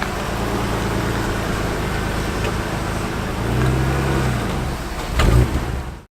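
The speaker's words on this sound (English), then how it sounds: "The Bimus is going in" A BMW E36 drives in with a steady engine drone and road rumble, swelling in a brief rev midway and again near the end before cutting off abruptly; close and loud.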